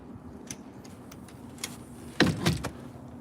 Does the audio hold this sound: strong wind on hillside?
no